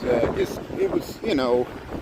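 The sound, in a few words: wind on a city street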